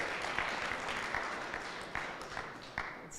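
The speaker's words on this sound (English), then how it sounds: "no round of applause for me?" Sparse applause from a small group during a livestreamed presentation, steady and fairly quiet, with a few sharper claps standing out.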